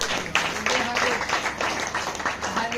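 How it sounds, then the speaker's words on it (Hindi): A church congregation claps hands in praise at a Saturday prayer meeting, a dense run of overlapping claps that keeps a loose rhythm under a steady voice talking. "ताली बजाकर परमेश्वर को"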